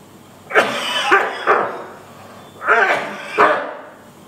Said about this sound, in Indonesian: Dan sengaja batuk.